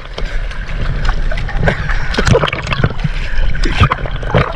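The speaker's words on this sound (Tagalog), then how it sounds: "Ayan na kasi yan, sama na panahon. Alon." Sea waves slap and splash around a boat in bad weather, loud irregular bursts of water over a constant rushing wash close by.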